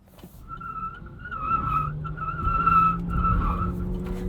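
Tires on a 2020 Chevy Bolt EV squeal under hard electric acceleration as it turns left onto a highway with stability control off, a rising whine layered over a swelling road and motor rumble, close and fairly loud.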